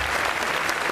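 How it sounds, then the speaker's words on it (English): Brief burst of dense audience applause for Emmett Shear at TwitchCon 2015 keynotes, loud and continuous through the whole second. "A round of applause for Emmett Shear."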